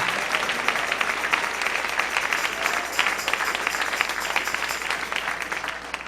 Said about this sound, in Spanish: Dale un aplauso al Rey porque Él vive.